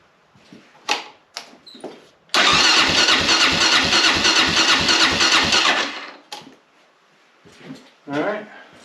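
A four-stroke machine engine cranks and catches, running loud and rough for about three and a half seconds with a rapid putter before cutting out, with a few knocks and brief talk before and after.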